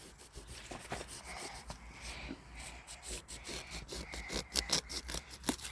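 A child cuts into a freshly harvested, spiky pumpkin outdoors, making repeated rough rasping and scraping strokes in an irregular rhythm, close but fairly quiet, with faint voices in the background.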